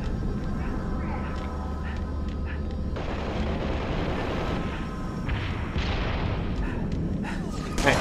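Gunfire in the video game Halo: Reach, a dense, steady roar of shots and explosions that continues without a break through the whole stretch, loud and constant.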